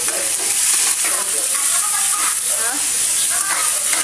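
Tofu frying in a pan with onion and garlic gives a loud, steady, hissing sizzle throughout, with light stirring noises and a voice talking over it.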